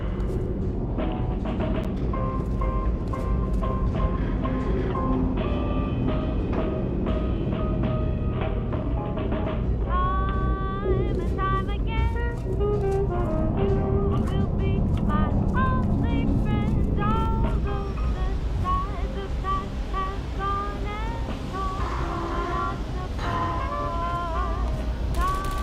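A steady low rumble of a train ride in the video game Portal Story: Mel runs under continuous melodic music, constant and moderately loud throughout with no break.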